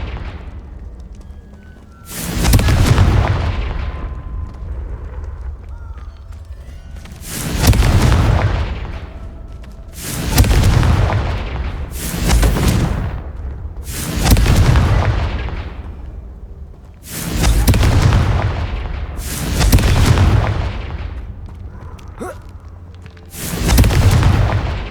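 Repeated Confringo blasting-curse explosions from the Hogwarts Legacy video game, seven loud booming blasts about every three seconds, each with a sharp crack and rumbling tail, no talk.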